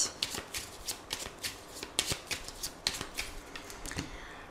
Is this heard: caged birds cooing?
no